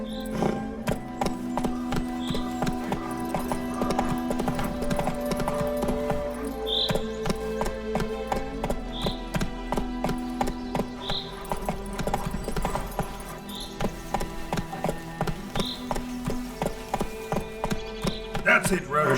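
Roach the horse galloping in The Witcher 3, a steady rhythmic clip-clop of hoofbeats over a game music bed, with a brief whinny and a voice speaking over it.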